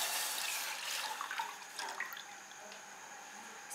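Milk being poured into a saucepan on a lit stove gives a short, close liquid pour that trails off into quieter trickling.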